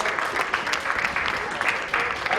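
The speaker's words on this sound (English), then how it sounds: "Let's give this team a round of applause" A crowd at a polo club match applauds the winning team with steady clapping, moderately loud and spread out, while a voice talks over it.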